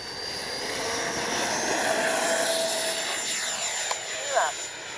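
An FMS Avanti S 70mm RC jet flies past on a windy day, its steady ducted-fan whine rising and falling at moderate distance while someone talks over it.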